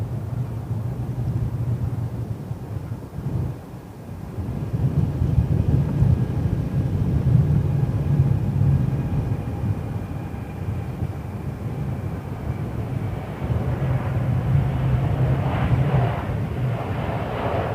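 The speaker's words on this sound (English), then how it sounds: "What aircraft is it? Oh, 777, Japan Air Defense Triple." Boeing 777 airliner at London Heathrow Airport, a steady low jet roar that swells as the aircraft passes, mixed with wind buffeting on the microphone, with no one speaking.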